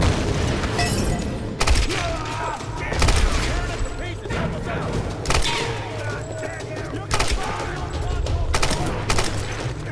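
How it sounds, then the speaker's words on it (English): Heavy gunfire in the Tomb Raider 2013 video game, with loud repeated bursts and booming shots over a steady noisy battle background, some sharp impacts standing out at intervals throughout. "She has a machine gun!"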